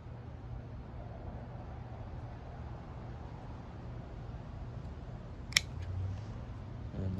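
A single sharp snip of pruning shears cutting a willow leaf ficus bonsai branch, quick and close against quiet background hum.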